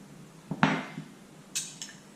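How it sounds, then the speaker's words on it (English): A spoon knocks and scrapes against a bowl while jam is mixed until soft, with a few short clinks and taps spread across a quiet moment. "mix it up a bit so it's soft and gooey"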